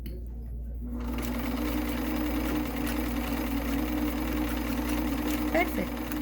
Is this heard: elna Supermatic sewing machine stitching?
yes